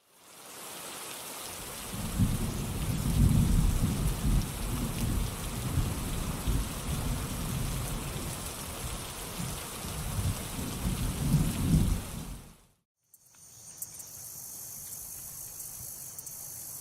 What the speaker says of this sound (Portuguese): A resposta está nas chuvas sazonais que ocorrem entre janeiro e março nas terras altas de Angola.